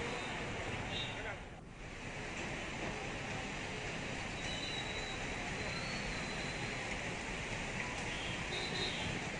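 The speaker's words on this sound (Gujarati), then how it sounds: "અમદાવાદના અલગ અલગ વિસ્તારોમાં વરસાદ છે" Light rain showers fall across Ahmedabad, making a steady, dense hiss that fills the whole stretch with only a brief dip early on, with no clear speech over it.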